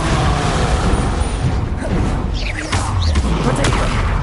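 Repeated fiery spell blasts from the Confringo curse in the Hogwarts Legacy video game, loud booming bursts and whooshes filling the whole stretch with dense crackling impacts and no pauses.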